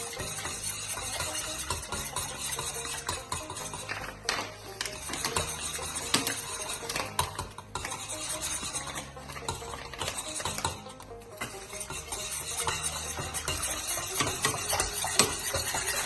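A spoon works pudding mix into a mixture in a pan, giving a steady, busy scraping and clinking that runs unbroken for the whole stretch with no voices.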